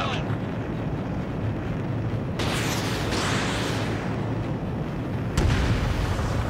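A radar facility blows up in Ace Combat 7, heard as a broad rumbling roar under continuous engine noise, with a sharp explosive onset partway through and another burst near the end, while radio voices talk over it.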